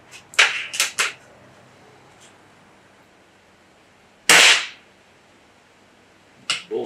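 A Gamo Wildcat .22 air rifle fires a 14.5-grain Gamo Rocket pellet outdoors in a backyard, several sharp close cracks and snaps with short gaps between them against quiet surroundings.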